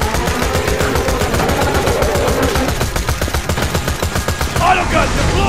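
Rapid, loud turret gunfire in Borderlands 2, a dense unbroken stream of automatic shots throughout, with a voice shouting over it near the end.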